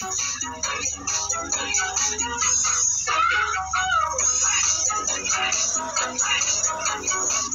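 Year-old pet chickens raised together make a dense, busy chorus of clucks and calls, loud and continuous throughout with a low steady hum beneath.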